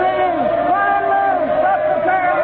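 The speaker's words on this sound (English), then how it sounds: "The crowd, they're yelling something at..." A crowd yells and chants in a radio drama staging of a Russian street scene, a dense wall of many voices rising and falling continuously without a break.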